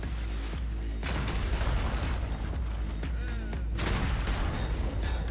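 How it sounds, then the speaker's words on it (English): Ship cannons boom in a naval battle in the game Holdfast, heavy reports at about one and four seconds over a dense, constant roar of battle noise. "I'm seeing cannonball fire from the right side cannon."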